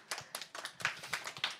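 Scattered hand claps from a small audience at a youth land-restoration event, sparse and uneven bursts rather than full applause, fairly faint in the room.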